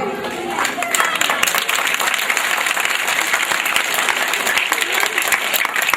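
An audience at a girls' school sports day claps steadily and loudly, a dense continuous wash of applause with faint voices mixed in.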